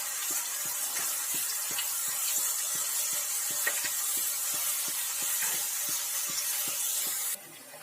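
Slices of homemade potato chips fry in hot oil with a steady, broad sizzling hiss and a regular faint ticking underneath. The sizzle drops off abruptly near the end.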